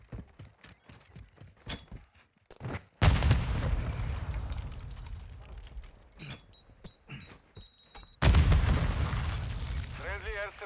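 Airstrike explosions in Call of Duty Modern Warfare 2, with a few quick taps and small bangs leading into two heavy, rumbling booms that roll on for several seconds each, loud and close, with brief game voices between them.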